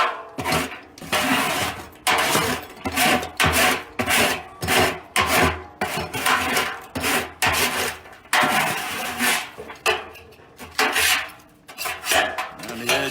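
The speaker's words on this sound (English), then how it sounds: "And then I'll take the scraper tool," A metal scraper tool scraping the bottom of a drum smoker, a series of rhythmic, harsh rasping strokes close up, each pass loud and gritty, repeating steadily with short gaps between them.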